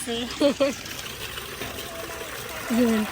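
Water trickles and pours steadily into a container up close at a roadside stop, with a few short bursts of talk over it.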